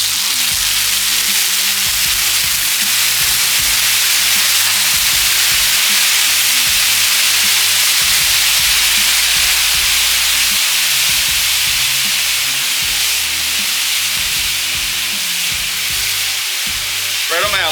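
Flank steak sears on a hot grill with a loud, continuous sizzle that crackles and hisses without pause, close and dense, with faint rustling movement underneath.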